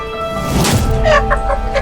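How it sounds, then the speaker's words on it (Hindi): Hen clucking close by in a short burst of several quick, rising clucks. "संजना, संजना, मेरी इतनी क्या परेशान हो रहा है इस मुर्गी के पीछे?"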